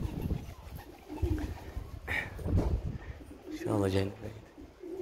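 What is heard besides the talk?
pigeons cooing in a loft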